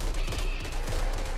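Revolver shots in a first-person shooter video game, a dense burst of loud gunfire blasts over a continuous rumble with no voices.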